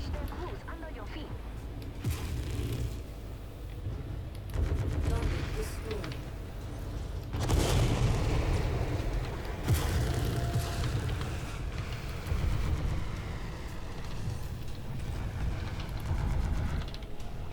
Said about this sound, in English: That heavy rifle was insane.